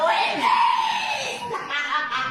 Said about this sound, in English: She begins laughing and screaming, almost as if celebrating this man's passing